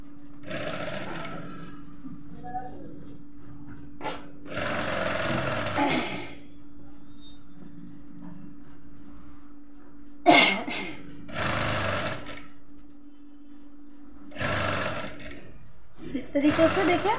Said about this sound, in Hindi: पट्टी के एकदम किनारे में यहाँ पे सिलाई लगाएंगे